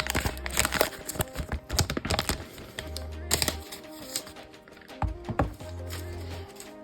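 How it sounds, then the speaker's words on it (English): Packaging of a POCO F4 phone being unwrapped, with close crinkling, tearing and tapping of cardboard and plastic in quick irregular bursts, plus a low hum in places. "Let's actually unwrap this."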